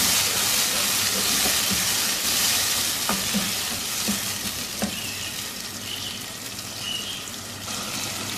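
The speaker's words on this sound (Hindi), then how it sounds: "मिक्स करेंगे अच्छी तरह से।" Chickpea pulao with rice and spices being stirred in a hot pan, a continuous bright sizzle of frying with scraping stirring strokes and occasional clinks, close and steady throughout.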